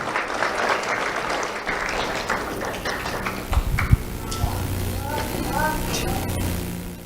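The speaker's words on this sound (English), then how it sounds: "Let's have a round of applause for Serenity Saboski." Audience applause at a sheriff's office awards ceremony for local schoolchildren, a steady broadband clatter of clapping lasting the whole stretch, fairly close, with a few louder claps and faint voices mixed in.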